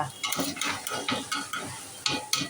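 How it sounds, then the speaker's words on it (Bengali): Rice and lentils are stirred into hot oil in a pot for khichuri, giving a close, steady series of scraping, rustling strokes with soft taps of the spoon against the pot. "এবার চাল ডাল দিয়ে দেওয়া হচ্ছে"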